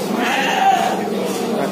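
A kacang goat bleats steadily and loudly at a busy livestock market, the call sustained and close over a constant crowd murmur.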